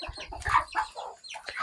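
A young Japanese bantam chicken gives a quick burst of short, close clucks and chirps, several notes in an uneven run over under two seconds, with no talking over them.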